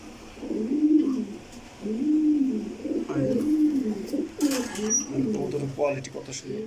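Racing pigeons coo repeatedly in low, throaty rolling calls, close and clear, with a few rustles and light knocks in between.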